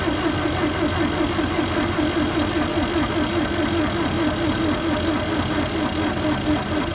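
A Bobcat skid steer engine cranks steadily on a weak battery, a continuous rhythmic churning that never catches and fires, loud and close for the whole stretch, with some speech mixed in.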